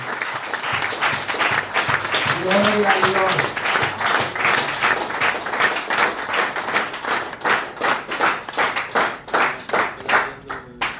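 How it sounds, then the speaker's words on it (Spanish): A Spanish-language Bible study class bursts into loud, sustained applause, many hands clapping steadily for the whole stretch, with a voice calling out briefly over the clapping near the start. "Denle un fuerte aplauso al Rey de Reyes y Señor de Señores"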